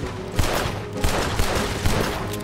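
Rapid gunfire from a shootout in the Red Dead Redemption 2 video game, a dense volley of overlapping shots with sharp, louder cracks about every half second, steady and close throughout with no talking.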